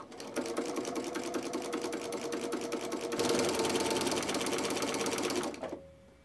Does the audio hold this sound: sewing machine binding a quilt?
yes